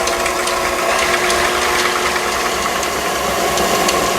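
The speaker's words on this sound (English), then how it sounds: "So I'm going to start beating my whipping cream until it starts to thicken." An electric mixer beats heavy whipping cream for frosting with a loud, steady mechanical whir and a rattling motor buzz that runs unbroken throughout.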